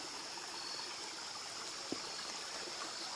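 A small waterfall in the woods gives a steady, soft rushing of flowing water, faint and continuous throughout, with one brief knock partway through.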